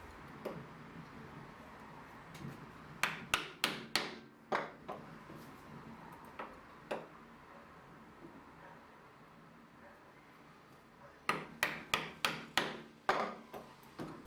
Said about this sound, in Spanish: Quitamos el resto del excedente con un formón y una masa